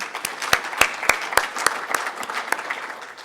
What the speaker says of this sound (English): Let's give them a great round of applause.